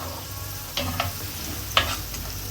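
Onions frying gently in oil over low heat, a soft continuous sizzle with a few faint stirring scrapes, close but fairly quiet.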